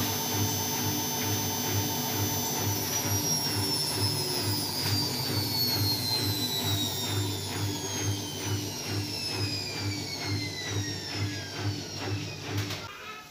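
Front-loading washing machine running with a heavy load during a service check for vibration and loud noise, giving a steady, loud mechanical drone with rising whine and rhythmic thumping that builds toward the end.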